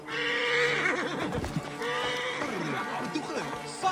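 A horse whinnies and neighs amid overlapping voices and busy background noise in Assassin's Creed Origins, the calls rising and falling over several seconds.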